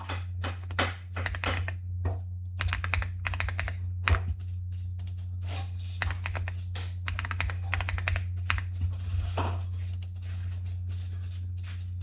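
Keys clatter in quick irregular bursts as a password is typed on a computer keyboard, with brief pauses between runs. A steady low electrical hum sits underneath.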